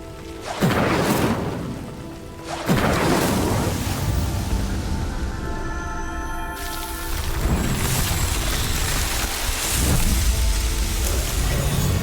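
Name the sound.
flames of Incendio spell burning a pyre in Hogwarts Legacy video game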